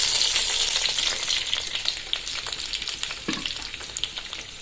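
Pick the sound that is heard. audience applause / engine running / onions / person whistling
onions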